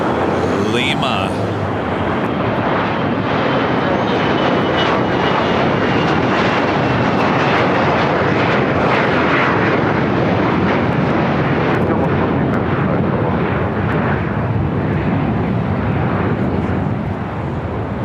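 Lufthansa Airbus A380 jet engines at LAX, a loud, steady roar that holds for the whole stretch as the jet turns onto a taxiway, with some chatter alongside.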